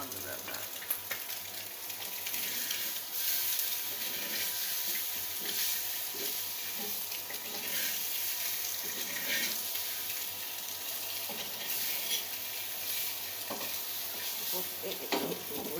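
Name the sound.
potatoes frying in a little oil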